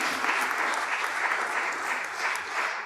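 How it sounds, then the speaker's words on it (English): A crowd at a community gathering on public banking and local renewable energy applauds steadily, a dense, even wash of many hands clapping close by that holds its level throughout. "give yourselves a round of applause."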